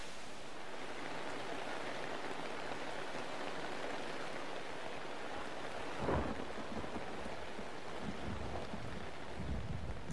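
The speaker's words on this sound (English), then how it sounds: "The first tropical storm hits the half-built camp with full force." A tropical storm lashes a half-built mountain camp, heavy pouring rain hissing continuously while a deep thunder crack and rolling rumble break in midway, loud and close.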